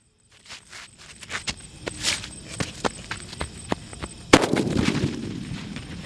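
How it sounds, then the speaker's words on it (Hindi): A Tiger Bomb Diwali firecracker bursts with one sharp, loud bang partway through, set off outdoors after a run of scattered crackling pops and small bursts, with lingering noise trailing after the blast. "हमारा टाइगर बम भी यार जोरदार चला"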